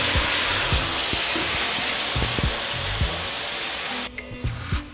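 Tomato and cashew paste hits lightly roasted spices in a hot pan, giving a steady, loud sizzle and hiss with soft stirring knocks, then a sudden drop to a quieter simmer near the end.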